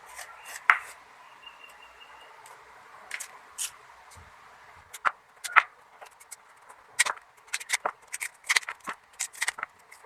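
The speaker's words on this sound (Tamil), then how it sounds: "இதை வந்து நம்ம தோல்லாம் நான் வந்து கட் பண்ணி எடுத்துக்கிறேன்" Tapioca (cassava) root has its peel cut away with a knife, heard as sparse, crisp scraping and snicking strokes up close, growing quicker and more frequent toward the end over a quiet background.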